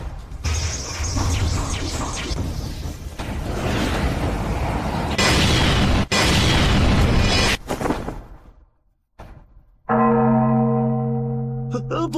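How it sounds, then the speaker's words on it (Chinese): A temple-style bell tolls in a period fantasy martial-arts drama setting, its long ringing tones and overtones starting after a burst of loud, crashing noise and a brief near-silence, then sustaining loud and alone. "不好，钟声响了"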